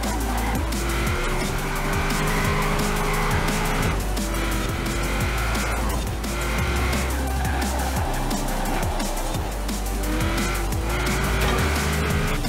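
A car in Forza Horizon 4 races along with a steady loud engine roar, gear changes rising and falling in repeated cycles, and squealing tires skidding through corners.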